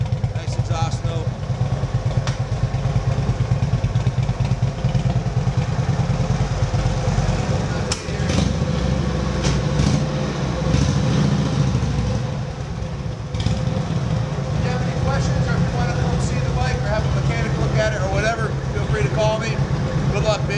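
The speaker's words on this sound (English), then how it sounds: "Motor sounds healthy. Nice exhaust note." A 1952 Harley-Davidson Panhead motorcycle engine idles steadily and loudly close by, its low rumbling exhaust note running throughout with a few clanking sounds on top.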